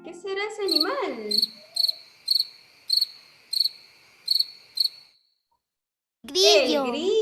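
A cricket chirps in a steady series of about seven short, bright pulses, with a voice briefly heard before and after.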